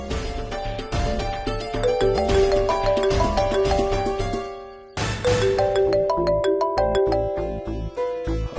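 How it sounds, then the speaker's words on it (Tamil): A mobile phone rings with an incoming call, its bright melodic ringtone looping loudly through two full cycles with a brief gap between them and no voices over it. "சுமதி அம்மாவே ஃபோன் பண்றாங்க, வந்துட்டாங்க போல"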